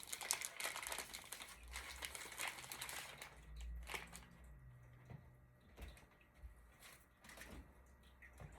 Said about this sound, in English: I will dispose of my sterile glove packaging in the